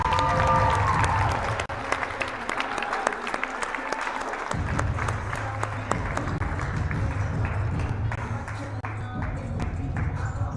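Audience applause in a school gym for the Neepawa Area Collegiate Tigers host team at a girls' basketball provincials opening ceremony, a sustained crowd clapping with scattered sharp claps, steady and fairly near.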